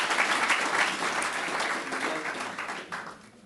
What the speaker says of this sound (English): give a big round of applause to this panel for some really exceptional contribution